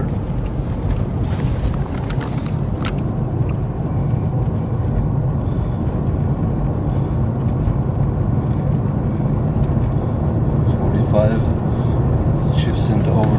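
A 1997 Pontiac Grand Prix with a newly changed automatic transmission accelerates. A loud, continuous engine and road roar runs throughout, with wind buffeting the cabin, and a voice talks over it.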